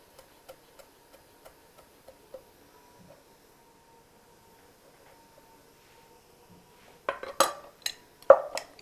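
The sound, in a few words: knife roughly chopping parsley sprigs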